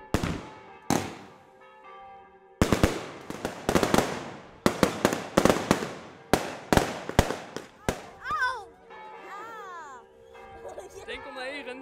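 A series of sharp New Year's Eve firework bangs and crackles bursts in irregular clusters in Jorwert, followed by whistling and squealing rockets.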